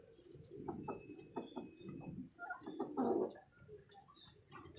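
A breeding pair of pigeons coos and chirps up close in short, repeated calls, soft and uneven, with brief louder bursts and no talking.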